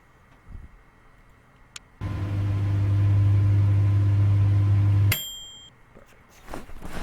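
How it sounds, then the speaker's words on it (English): In the video game Project Zomboid, a microwave oven set to defrost runs with a loud, steady low hum for about three seconds, then stops with a faint chime, between quiet clicks and shuffles. "What setting is this microwave on?"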